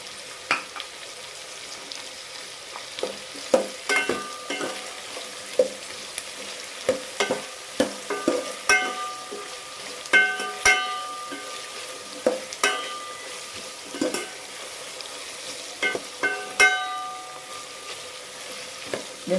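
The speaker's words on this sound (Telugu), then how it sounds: "ఉల్లిపాయలు వేగిపోయినాయి" Onions fry in a pan for tomato rice, a constant close sizzle punctuated by regular sharp scraping clicks as they are stirred, with no voices.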